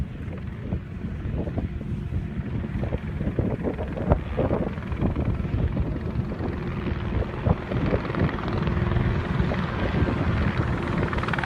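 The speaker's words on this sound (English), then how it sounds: "This helicopter doing challenging maneuvers while filming a movie scene for Fast and Furious 8." A helicopter performs challenging manoeuvres during filming of a scene for Fast and Furious 8. It produces a steady, fairly distant broadband rotor and engine roar with wind-like rushing, rising slightly toward the end.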